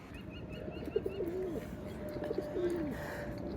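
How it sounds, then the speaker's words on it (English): Pigeons coo repeatedly at close range around a moored canal boat on the Trent & Mersey, their soft rolling calls rising over steady background noise, with other birds chirping faintly. "now we are surrounded, absolutely surrounded by birds. Who do you think's more likely to get us, the crows or the pigeons?"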